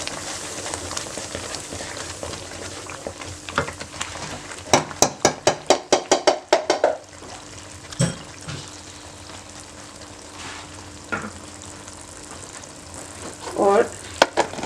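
Halwa cooking in ghee in a pot, sizzling steadily with a quick burst of rapid scraping stirs in the middle and a few clinks of the spoon, close and moderately loud.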